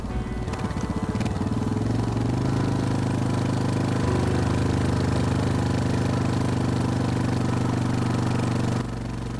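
A motorcycle engine runs close and loud, starting with a rough, lumpy idle, then revving up and holding a steady droning pitch for several seconds before cutting off near the end.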